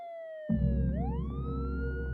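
An ambulance siren sound effect wails loudly and close, its tone sliding down and then sweeping back up over a deep rumble, with no talk.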